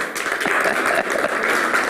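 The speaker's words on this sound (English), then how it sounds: "Give her a round of applause." A small group at a live-streamed class applauds a girl who has just read aloud, a lively round of many hands clapping with a slightly uneven rhythm, moderately loud and close.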